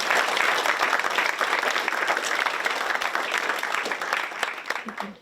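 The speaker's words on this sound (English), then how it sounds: "would you give me a big round of applause for Caitlin?" Crowd applause at an annual awards event, a full, dense round of clapping that stays strong before fading at the end, with faint voices near the close.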